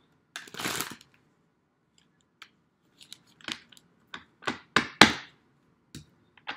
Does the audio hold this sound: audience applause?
no